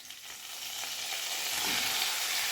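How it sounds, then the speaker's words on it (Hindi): Boneless chicken cubes fry in a handi with a steady, loud sizzle that swells a little louder toward the end, and no one speaks. "और इसको भी हम फ्राई कर लेते हैं इस तरीके से"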